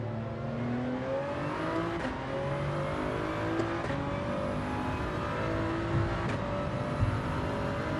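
A Toyota Supra engine in a racing video game revs hard and shifts up through gears, pitch sweeping upward repeatedly in a steady, loud racing drone.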